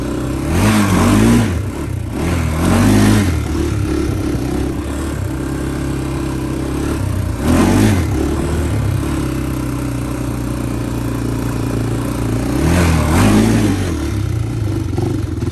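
1999 Honda TRX 400ex ATV engine idling loudly, with three sharp revving bursts as a tire spins on ice, the engine rumbling steadily between them, no voices.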